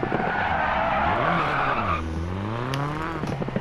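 A 2000cc Ford Focus rally car in the DiRT 4 racing game skids and spins out at modest speed: a loud, continuous tire scrub and squeal over a droning engine whose pitch sags and then rises again, with no voices.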